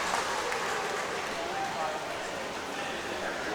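Spectators cheer from the stands at a swimming and diving invitational meet, a steady broadband roar of crowd noise that holds without pause throughout.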